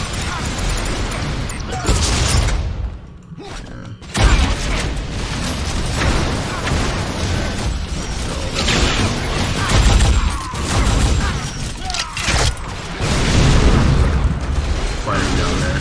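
Bot opponents firing in a multiplayer shooter game, dense rattling bursts of gunfire and booming impacts nearly continuous across the span, loud and close, with a brief lull and a short spoken word near the start.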